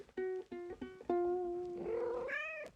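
A house cat meows indoors in a string of short calls followed by a longer drawn-out meow that rises into a strained, wavering cry, close and fairly clear against a quiet room.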